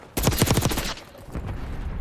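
Bursts of automatic gunfire in the game Black Ops 6 multiplayer, a rapid, loud string of close shots that ends and leaves scattered fainter shots and noise.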